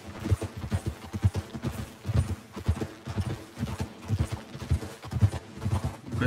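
Horse hooves clip-clop at a steady walking rhythm in the Red Dead Redemption 2 game in a snowy setting, close and clear, with repeated even footfalls and no talking.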